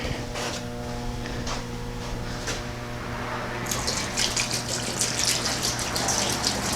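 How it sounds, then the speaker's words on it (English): Water glugs from a jug into a container, a bright splashing gush that grows louder over a steady low background hum, ending in a close, bubbling pour. "Throw some water in that thing,"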